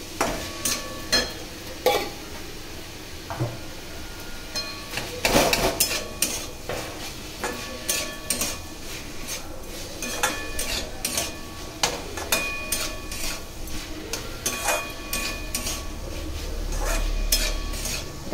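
Snake gourd curry is stirred in a pan in a home kitchen: a utensil scrapes and clacks in repeated irregular strokes over a soft, steady sizzle, with no one talking.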